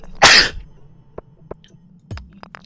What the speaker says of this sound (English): I feel a sneeze coming on